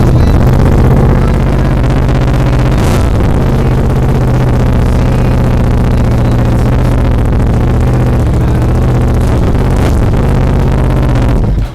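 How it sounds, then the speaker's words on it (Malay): Moto Morini motorcycle fitted with an SC Project exhaust, a loud, steady engine drone held close for about twelve seconds with a deep rumble, brief rises in revs near the start and end. "Exhaust dia aku akan bagi bunyi dekat sini sekarang."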